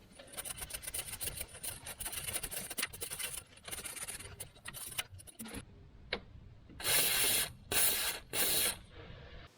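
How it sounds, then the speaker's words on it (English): Wire-brush scraping and rubbing on a crusty bolt gives way to three short hissing bursts from an aerosol can of penetrating oil, each about half a second long, close by. "give them a wire brush and a spray with some penetrating oil"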